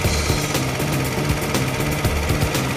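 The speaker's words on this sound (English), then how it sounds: "Restart the engine and check that it is running properly." A car engine restarted after a carbon cleaning treatment runs steadily, with a loud, continuous mechanical drone and a rhythmic low knocking pulse throughout.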